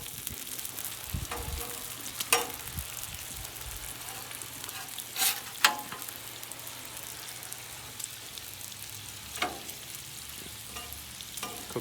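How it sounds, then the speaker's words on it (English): Bacon sizzles and crackles steadily on a hot Blackstone 28-inch flat-top griddle, with occasional louder scrapes and clatters of a spatula as strips are flipped, close up and with no speech. "we're ready to flip this bacon over"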